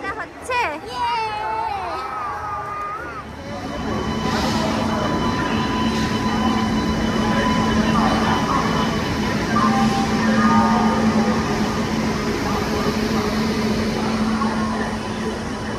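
A night passenger train from Kolkata to Rourkela rumbles steadily along the tracks with a continuous loud roar and rattle, after a brief stretch of children's voices and chatter at the start.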